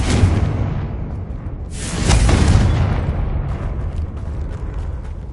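Spell explosions from Confringo and Bombarda in the video game Hogwarts Legacy: a heavy boom opens, a second loud blast bursts a moment later, and each fades into a deep rolling rumble.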